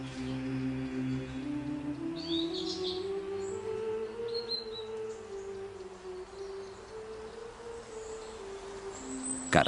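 Birds sing and chirp in the Eume forest among oaks, birches, hazels and hollies. Scattered high calls sit over a steady low hum that sounds like a droning tone.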